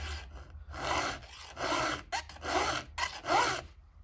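Rhythmic rasping strokes of a file across a STIHL HEXA chainsaw chain tooth, about seven short, close, bright scrapes in quick succession with brief pauses between, and no voices.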